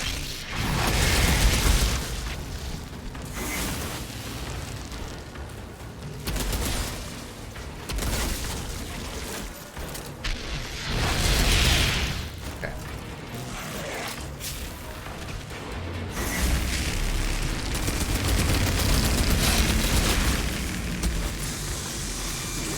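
A shotgun booms repeatedly during combat in the video game Outriders. Heavy, explosive blasts and bursts recur at irregular intervals amid continuous rumbling battle noise, loud and close, with no audible voices.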